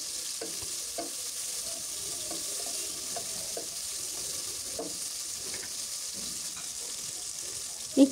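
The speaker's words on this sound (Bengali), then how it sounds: "এই তো পেঁয়াজগুলো দিয়ে একটু ভেজে নিচ্ছি।" Chopped onions frying in a pan: a constant close sizzle with soft stirring scrapes running throughout, and a brief knock right at the end.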